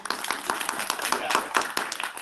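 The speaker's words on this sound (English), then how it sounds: "so give yourselves a round of applause" An audience at an academic conference applauding, a scattered burst of many hands clapping at middling distance under some talk.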